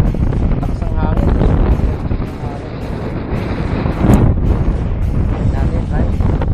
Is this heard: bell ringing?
no